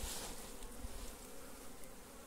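Apis honey bees swarm in a captured colony in a cabiuna tree stump, a dense, continuous buzzing drone that stays steady and close throughout.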